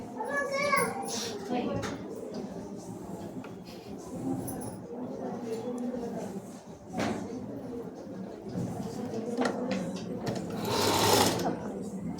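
Sewing machine stitching a long frock for tailoring training, running in steady continuous bursts with brief pauses, close and fairly loud, with a voice and talk heard in the background.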